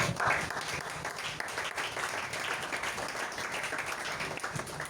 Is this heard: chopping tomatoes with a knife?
no